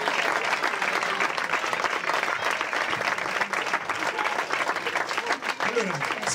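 A crowd claps steadily at a volleyball club's season presentation, a sustained, fairly close roar of many hands with voices and chatter mixed in throughout.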